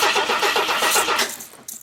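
A budget Turbo 250 car engine cranks over on the starter in a fast, steady churning rhythm of about a dozen beats. It is close and loud, then slows and stops near the end without firing.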